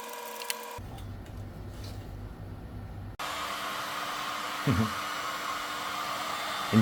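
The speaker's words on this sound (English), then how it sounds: "Then get your heat gun and warm up your casings." Heat gun warming motorcycle engine casings for fitting main bearings: a steady blowing hiss that cuts off briefly, then comes back louder with a constant airy roar and a few light knocks.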